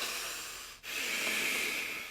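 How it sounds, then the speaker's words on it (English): Steady breathing through the nose during a guided meditation, a close, continuous airy hiss with one brief pause partway through, heard alone without talk. "And we're breathing still through the nose, out through the nose."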